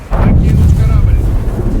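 Heavy, continuous rumbling roar of a ship exploding and burning in the naval combat game War Thunder, loud and dense in the low end, sustained throughout with no pauses.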